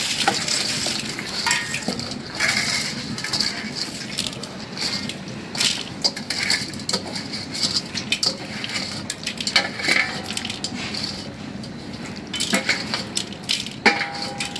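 Washed rice and lentils tipped into a pot for khichuri, giving a busy scraping, crunching and stirring clatter with uneven bursts throughout and a faint sizzle beneath.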